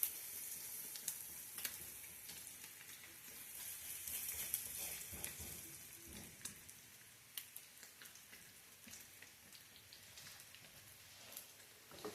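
Bacon and banana pancakes sizzle on an electric griddle, a steady close crackle and hiss like light rain with scattered louder pops, continuous throughout and with no talk.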